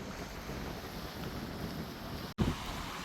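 Wind gusting along a shoreline on Analaitivu island, heard as a steady broadband roar with a sharp buffeting break near the end, no voices.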